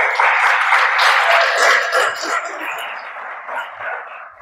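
A church congregation claps together in a continuous, dense wash of applause that holds steady for several seconds before slowly thinning out.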